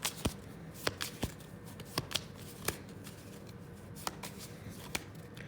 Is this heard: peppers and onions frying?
no